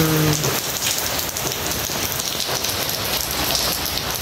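Steady light rain keeps falling, a continuous, even hiss of drops on surfaces that fills the whole stretch at a constant level, with no voices.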